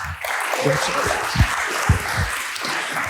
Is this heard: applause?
yes